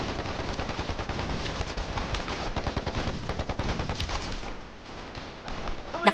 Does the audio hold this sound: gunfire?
yes